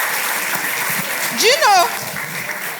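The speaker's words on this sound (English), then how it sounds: "please, a round of applause for yourselves." An audience at a conference on social media applauds steadily in the background while a person speaks briefly over the clapping.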